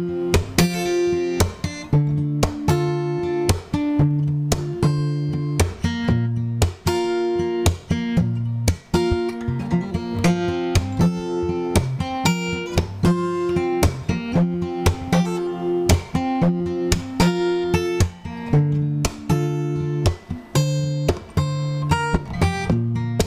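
Acoustic guitar fingerpicking noodles through the chords of a song, with plucked notes, percussive taps on the body and ringing chords in a steady rhythm, played close and alone.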